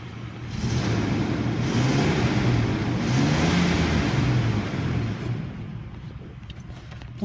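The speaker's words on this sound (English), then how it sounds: "Let's go ahead and listen to the engine." A 1998 Chevrolet Blazer LT engine runs loudly nearby, its pitch rising and falling as it revs a few times, then settles toward a quieter idle.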